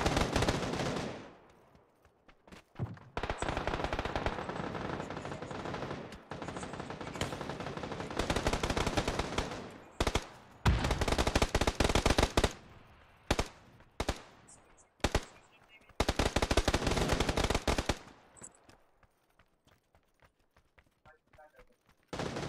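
Gunfire in the PC battle royale game PUBG, loud sustained bursts of automatic fire broken by short pauses and single shots, rising and falling across the stretch before dying away near the end.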